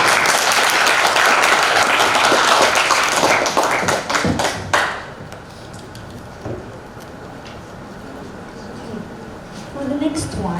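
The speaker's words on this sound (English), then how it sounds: "everyone please round of applause for group 4" Loud applause from a youth festival audience for a group at a business idea competition, dense clapping for about five seconds that ends abruptly, followed by quieter room noise and scattered faint sounds.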